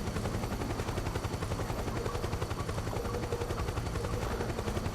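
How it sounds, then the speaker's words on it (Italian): Helicopter in the video game Metal Gear Solid 4: Guns of the Patriots, a dense rotor chop pulsing steadily, loud and continuous, mixed with rapid gunfire-like bursts and no speech. "Però c'è l'elicottero."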